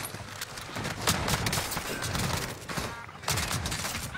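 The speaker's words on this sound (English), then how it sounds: "Under hostile fire." Gunfire in Call of Duty Warzone, a dense fusillade of rapid overlapping shots with sharp bursts throughout, loud and continuous, with a renewed burst near the end and no speech.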